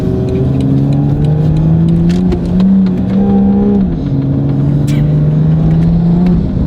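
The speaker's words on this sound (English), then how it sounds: "So that's why you hear kind of the excessive amount of burbles, even if we're in comfort mode." BMW M340i with a B58 engine, EcuTek tune and Valvetronic Designs exhaust, valves open, drones loudly up close with engine pitch rising and falling, plus scattered pops and burbles.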